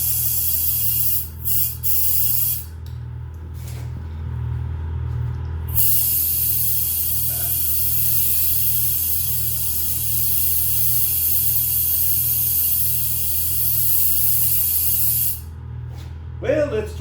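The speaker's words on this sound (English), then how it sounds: "we'll hit it with a little brake spray." Brake cleaner sprays from an aerosol can onto a small stiff tire being seated on a 4-inch rim, loud steady hissing in long bursts, the longest running about ten seconds, with a low mechanical hum beneath.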